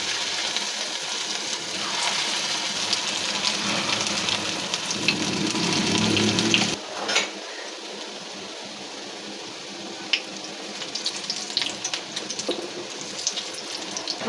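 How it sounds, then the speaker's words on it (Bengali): Marinated eggs and potatoes sizzle in hot oil in a home kitchen, a steady hiss and crackle that is loudest early on, then quieter frying with occasional pops and clinks of utensils. "এখন আমরা এগুলি এক এক করে ভাজতে দেবো।"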